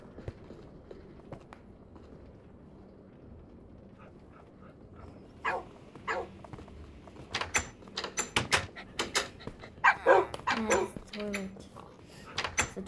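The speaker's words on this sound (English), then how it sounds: "Oh, we have a fur puppy." A puppy starts with faint whimpers, then breaks into a run of sharp, close barks and yips in the second half, along with footsteps, knocks and a person talking.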